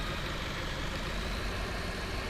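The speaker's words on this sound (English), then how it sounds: "That is a nice truck. Got a lot of horsepower." A high-horsepower truck in a farming video game idles with a steady, dense engine drone that holds evenly throughout, with nothing else over it.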